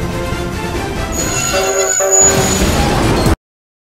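A toy train horn gives a thin, steady toot for about a second over a dense, busy background, and everything cuts off abruptly.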